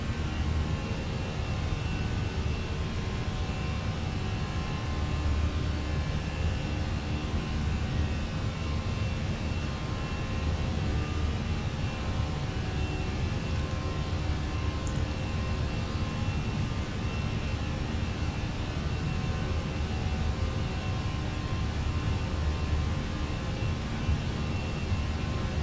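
Fenix A321 engines spooling at takeoff thrust in a flight simulator: a steady, dense roar holding constant and loud throughout, with no talk over it.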